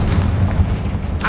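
Blasting spell explosion from the Hogwarts Legacy video game: a deep, rumbling low boom sustained through a short stretch, with a faint voice at the end.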